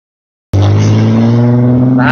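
A loud car roars past close by, a sudden heavy engine drone that starts abruptly after a brief silence and holds steady, with a voice talking over it.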